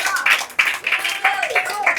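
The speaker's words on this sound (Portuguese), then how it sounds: "As palmas para Jesus essa noite, porque Ele merece toda a honra e toda a glória." A church congregation clapping for Jesus during an evening service, rhythmic group claps in a steady beat with a voice talking over them.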